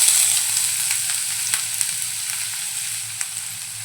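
Finely chopped onion sizzles in a spoonful of hot oil in a kadhai while Malvani-style French beans bhaji is being cooked, a loud, steady frying hiss with a few sharp clicks of stirring.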